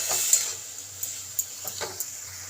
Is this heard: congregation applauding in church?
no